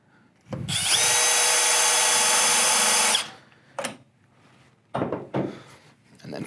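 A power drill bores through a panoramic door frame system in one loud, sustained whir of about two and a half seconds, followed by several short knocks and handling clatters nearby.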